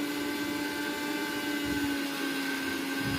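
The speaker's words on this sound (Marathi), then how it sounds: "नंतर आपल्याला पूर्ण मिक्सरवर असं बारीकसं आणि जाडसर असं वाटून घ्यायचं" A steady, droning motor whine runs unbroken throughout, like a kitchen mixer grinding at constant speed, loud and close with no voices.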